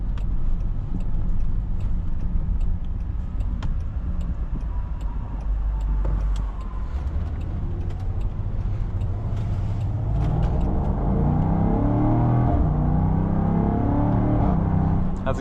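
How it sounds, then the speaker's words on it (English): A 2023 Land Rover Defender 90 V8 Carpathian Edition accelerates on the road, its engine a steady low rumble that swells into rising revs in the second half, heard from inside the cabin. "Time for some V8 Defender drive."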